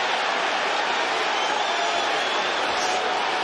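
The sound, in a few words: boxing arena crowd cheering during fight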